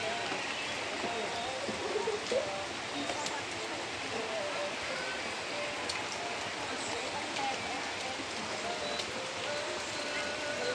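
Steady rain pours outdoors in a village setting where children play in it, a constant close hiss of drops with faint background voices.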